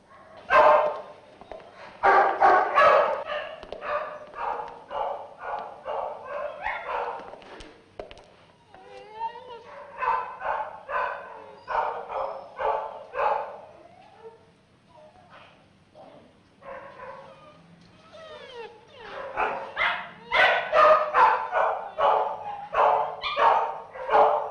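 Many dogs in a dog pound bark in busy bursts with yips and whimpers, some near and some farther off, pausing briefly before rising again.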